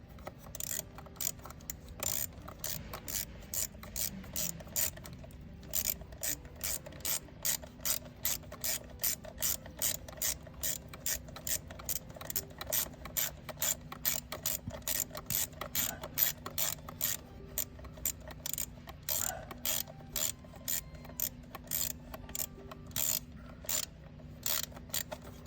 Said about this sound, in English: Tightening up those 8 millimeters that are holding on the fuel rail.